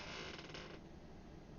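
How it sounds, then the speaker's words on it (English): A chair creaking, one drawn-out strained wooden groan right up close, loudest at the start before easing off into a quieter rasp. "that was a chair"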